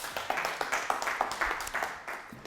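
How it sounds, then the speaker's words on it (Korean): Light clapping from a small lecture audience, individual claps audible in a quick uneven rhythm, modest in volume. "좋으면 박수 주세요."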